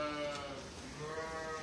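Sheep bleat on a farm with racing sheep, a wavering, nasal animal cry heard close and fairly loud with no one talking.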